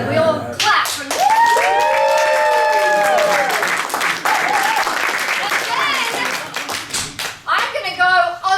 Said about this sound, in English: And we all clap from there.